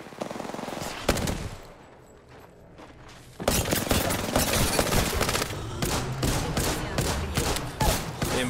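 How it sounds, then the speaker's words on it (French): Sustained automatic gunfire in Apex Legends, dense rapid bursts that pause briefly and then return louder and continuous, close and intense, with no talk over it. "On tire dessus."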